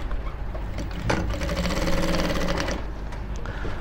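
A sewing machine runs a hem on an outfit, its motor whirring steadily for a couple of seconds between quieter stretches, close and fairly loud, with no talk.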